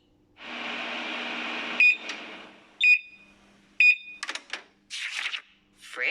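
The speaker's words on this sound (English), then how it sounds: "Microwave goes beep-beep." A microwave oven runs with a steady hum, then gives three evenly spaced electronic beeps, close and clear, followed by a door-like clatter and rustle.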